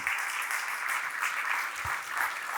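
Congregation applause in a church service, a moderate, fairly distant wash of many hands clapping continuously with a low thump partway through and no talking.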